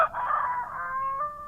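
A rooster crows loudly and close by at night, one long drawn-out cock-a-doodle-doo with a rising start and a sustained tail, heard alone without speech.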